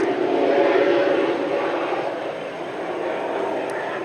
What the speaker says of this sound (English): See if we can get that plane.